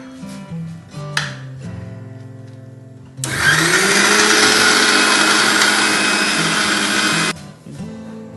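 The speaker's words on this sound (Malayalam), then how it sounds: "അങ്ങനെ വറുത്ത തേങ്ങ വെള്ളം കൂട്ടാതെ ഇതാ പൊടിച്ചെടുത്ത്" A kitchen mixer grinder runs loud and steady for about four seconds, grinding roasted coconut without water, starting abruptly and cutting off sharply, with quieter sounds before and after.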